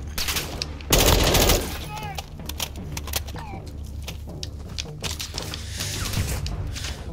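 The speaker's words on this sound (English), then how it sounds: "Who's firing at me?" Gunfire in the video game Call of Duty: Modern Warfare 2, a dense burst of rapid shots followed by scattered bursts and sharp cracks against a background hum, mid-distance and fairly loud.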